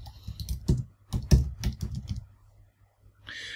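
Someone types a command on a computer keyboard, a quick run of close, crisp key clicks with a few louder presses, ending in a brief pause and then a soft burst of higher noise.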